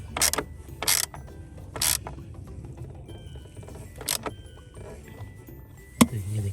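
A ratchet tightens the battery clamp on a VW Golf 7, giving several short, sharp metallic clicking bursts spaced a second or two apart, close and quiet over a low background hum, with a final louder clack.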